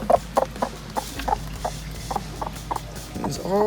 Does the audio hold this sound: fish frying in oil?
no